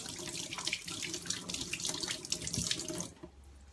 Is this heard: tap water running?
yes